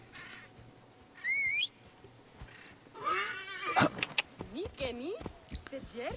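A horse in the Egyptian setting of the video game Assassin's Creed Origins whinnies in a brief, high, wavering burst, then gives a longer rising neigh with snorting, close and fairly loud over faint game ambience.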